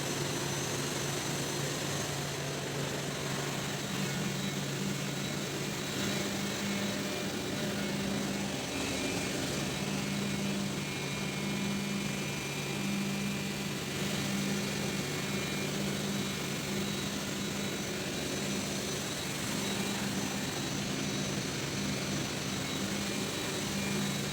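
Main engine running in a ship's engine room, a loud, unbroken mechanical roar with a steady low hum and faint tonal whine, constant from start to finish with no voices.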